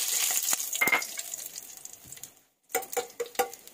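Curry leaves and cumin seeds crackle and sizzle in hot oil for a jackfruit sabji, a close, busy spatter that briefly falls silent before sharp popping bursts resume.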